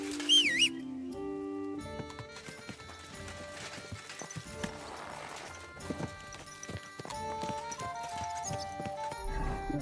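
In the video game Kingdom Come Deliverance 2, a horse's hooves clip-clop in a rhythmic stream, with a horse whinny and game music playing over it.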